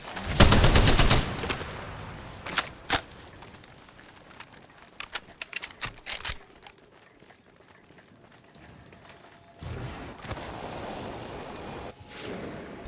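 Gunfire in the Apex Legends Mobile video game: a dense burst of rapid shots up front, then scattered single and short-burst shots, with softer movement and ambient game noise between them.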